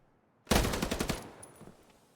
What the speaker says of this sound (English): Mother's opening up the site again with that shotgun